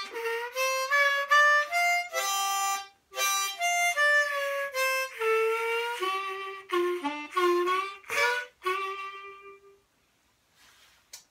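A cheap €3 harmonica plays a short run of breathy reedy notes and chords, loud and close, stopping abruptly before a near-silent tail.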